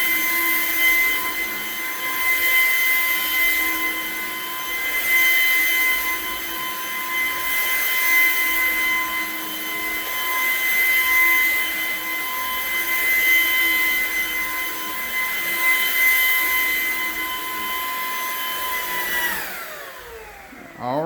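A commercial vacuum cleaner runs over rugs in a janitorial setting with a steady, loud high-pitched whine that swells and dips as it is pushed back and forth, then winds down at the end.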